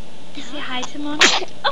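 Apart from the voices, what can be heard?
child sneezing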